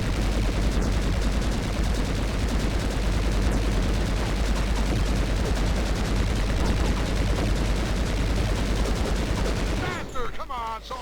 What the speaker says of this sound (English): Those machine guns will hurt.